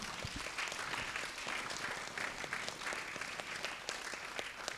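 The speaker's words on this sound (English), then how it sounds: "A great round of applause for Vishal." An audience at a student awards and interaction event breaks into applause, a continuous, even roar of many clapping hands lasting several seconds, moderately distant and without speech.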